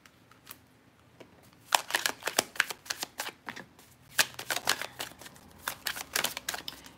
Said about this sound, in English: Let me pull some other cards because I want to.